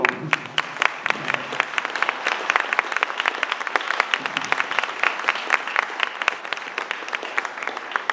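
Audience applause fills a concert venue ahead of a performance by a group, a dense, steady wash of many hands clapping with sharp individual claps standing out, sustained and fairly close throughout.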